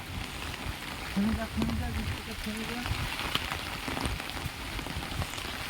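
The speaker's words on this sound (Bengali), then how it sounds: "সকাল থেকে সারাদিন বৃষ্টি হচ্ছে, দেখো এখনও বৃষ্টি হচ্ছে" Steady rain patters on surfaces nearby, a continuous soft hiss with scattered drops, while a person talks quietly over it.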